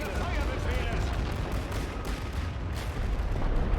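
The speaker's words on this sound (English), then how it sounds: "Looks like our artillery is doing a decent job here." Continuous rumbling artillery barrage in the World War I strategy game The Great War: Western Front, dense overlapping booms and distant gunfire rolling steadily at high level throughout.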